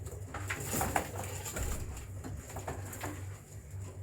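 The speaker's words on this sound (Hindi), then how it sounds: "ये है फिरोजपुरी कबूतर" Ferozpuri pigeons, a breeding male settled beside his female, cooing softly in a quiet loft, with faint fluttering patter and a steady low hum underneath.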